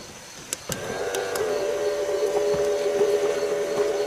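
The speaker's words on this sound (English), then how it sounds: "what it's doing right now is it is pumping the gas tank and all the lines, the vacuum lines and the EVAP lines" ANCEL S1000 12V EVAP smoke leak detector pumping a car's gas tank, vacuum and EVAP lines, a steady droning motor hum with a few sharp clicks near the start, close and continuous.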